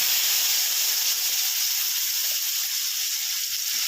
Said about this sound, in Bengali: ছোট ছোট করে কেটে রাখা আলুটা দিয়ে দেবো